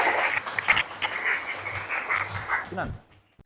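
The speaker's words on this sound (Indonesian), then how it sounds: "kita berikan aplaus" Brief clapping from a classroom audience for a student presenter, broadband and moderately close, fading out after about three seconds with faint voices mixed in.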